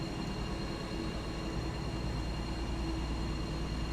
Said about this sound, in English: It made a noise as if the brakes were coming on, but it actually didn't.